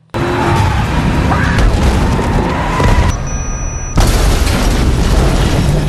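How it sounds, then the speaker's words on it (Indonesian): A small bomb explodes under a car in an action film scene, a sudden burst followed by rumbling debris and noise, with a brief lull before another heavy crash. "bom kecil itu langsung meledak sehingga membuat mobil itu mogok"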